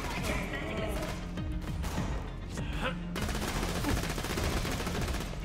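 Rapid gunfire from enemy fire weapons and snipers rattles through a co-op session of the video game Borderlands The Pre-Sequel, dense continuous bursts with some heavier impacts, and voices talk over the shooting.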